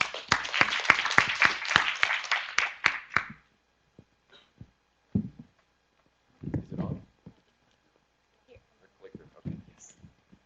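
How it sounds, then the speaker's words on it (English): Audience applause at a conference closing plenary: a dense burst of clapping lasting about three seconds, then it dies away and a voice speaks in short phrases. "Once again, our applause."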